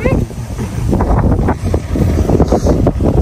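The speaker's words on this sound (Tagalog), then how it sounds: "Simoy ng hangin." Gusty wind buffeting the microphone in rumbling waves, with faint voices mixed into the blustery noise.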